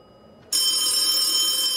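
A telephone bursts into ringing in the horror game Charon's Staircase after a near-silent moment, a sudden, loud, bright sustained ring that continues unbroken to the end.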